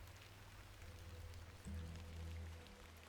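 Soft, steady rain patters in the point-and-click adventure game The Excavation of Hob's Barrow, a faint even hiss with a low background hum that swells partway through.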